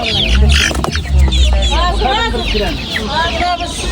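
Roosters and two-month-old chickens at a crowded poultry bazaar in Hazarasp cluck and crow continuously, close and loud, while people talk over the din.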